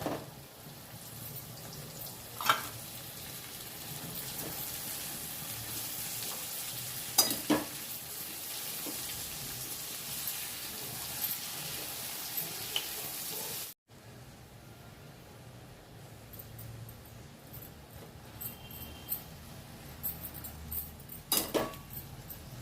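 Ridge gourd goes into a hot pan and sizzles steadily under stirring, with a few sharp clinks of a spoon against the pan and a brief break partway through.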